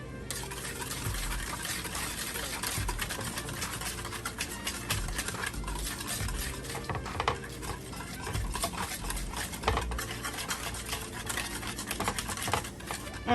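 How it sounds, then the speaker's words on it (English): A sugary glaze for meatloaf being whisked in a bowl, a steady close clatter of whisk wires scraping and tapping against the bowl in quick, continuous rhythm. "Now I'm gonna whisk this bad boy together"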